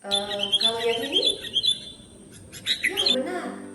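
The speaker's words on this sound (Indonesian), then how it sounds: "itu adalah suara kicauan burung" Small birds chirp and tweet in quick repeated high calls, fairly close and clear, with a brief gap before the calling resumes.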